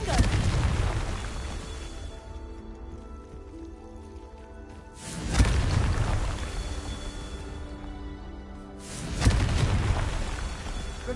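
Confringo spell blasts in the video game Hogwarts Legacy: three heavy, rumbling explosions about four seconds apart, each a loud burst that decays into a long roar.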